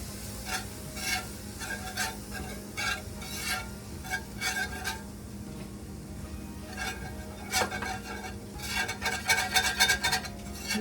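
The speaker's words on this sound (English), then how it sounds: "Use that whisk to get up all those brown bits that are on the bottom of our cast iron" A whisk scraping and stirring flour into sausage fat in a cast iron pan, quick rhythmic metallic strokes in bursts over a soft sizzle, close and clear with no talk.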